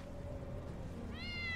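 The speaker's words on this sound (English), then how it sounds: "That's Wedge's cat." A cat meows in the Final Fantasy 7 Remake video game, a single clear rising meow arriving near the end after a low ambient game hum.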